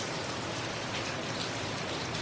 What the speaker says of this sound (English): Now the rain is just whipping.